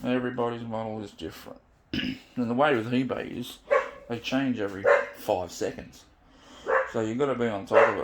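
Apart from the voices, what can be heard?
dog barking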